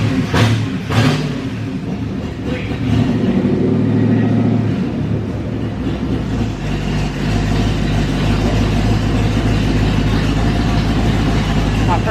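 A stock 302 engine running on nitrous on a dyno starts with a couple of sharp bangs, then settles into a loud, steady low rumble that builds into a continuous revving drone, with people talking over it.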